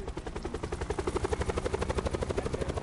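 A helicopter in a video game, the Black Ops Blackout beta, thumps with a fast steady rotor beat that grows more pronounced, loud and close with engine whine and no talk over it.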